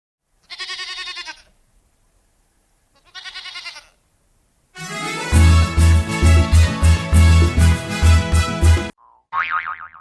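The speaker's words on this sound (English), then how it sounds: "G for goat. G for goat." A goat bleats twice with quavering cries, then bouncy boinging music plays before one more short bleat at the end.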